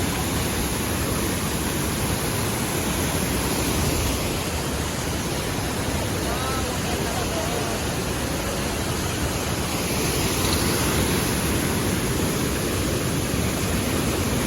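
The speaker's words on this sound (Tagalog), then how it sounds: "Ay, andito na yung Mother Falls." Mother Falls waterfall in Baler, Aurora, roaring as a dense, steady broadband rush of falling water, loud and close throughout with no voices.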